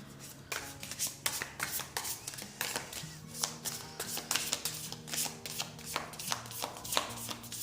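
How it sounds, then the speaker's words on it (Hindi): Tarot cards are shuffled and drawn by hand in a quiet room, with soft rapid riffling and crisp slaps of cards landing in an uneven rhythm that continues throughout. "I will pull 2 more cards."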